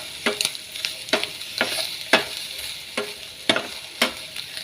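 Chinese sausage fries in its own rendered fat with no added oil, a soft steady sizzle broken by about a dozen sharp scraping stirs of the spatula at close range.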